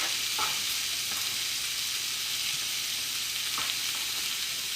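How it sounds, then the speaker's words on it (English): Artichokes, chopped spinach, onions and garlic sizzle steadily in a hot pan, a constant close hiss of frying with faint stirring scrapes and no talking. "We've got a nice sizzle on them."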